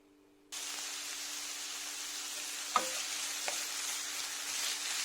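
Onions sautéing in a pan on the stove give off a steady, close sizzling hiss that starts abruptly and holds even, broken by a couple of faint utensil clicks.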